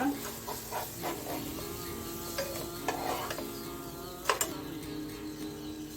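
Chilli flakes cheese chicken is tossed and fried in a pan, with a steady sizzle under repeated stirring scrapes and light ticking knocks, close and fairly quiet.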